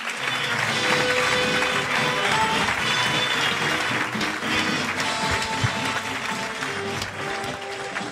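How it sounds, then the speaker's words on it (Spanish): Loud, sustained applause from a comedy-show audience welcoming comedian Joseba, a dense wall of clapping holding steady for the full stretch without pause. "pido un fuerte aplauso para Joseba"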